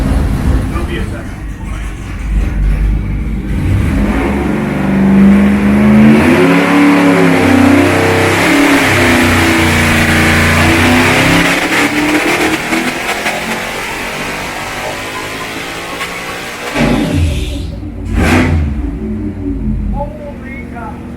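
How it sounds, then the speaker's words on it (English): A Whipple-supercharged 427 race engine at Borowski Race Engines makes a full dyno pull, climbing into a loud, harsh, rising wail held for about fifteen seconds before it cuts back and dies down. "We got a Whipple on top of a 427. Get ready to do a full pull."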